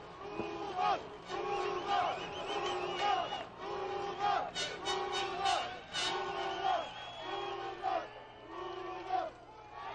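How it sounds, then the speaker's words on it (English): A wrestling arena crowd during a CMLL lucha libre match yells and cheers in rising, rhythmic bursts, loud and dense, with shouted voices layered throughout. "The crowd, some of the crowd cheering the Rudos."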